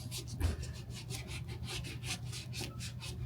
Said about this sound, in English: you can take a soft bristle brush or a rag like this one, and you want to work that cleaner in a clockwise motion